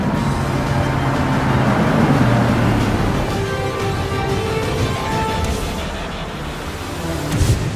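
A 2019 Porsche Panamera GTS lapping a racetrack, its engine and road roar a steady, dense drone that holds near and loud throughout with slight swells.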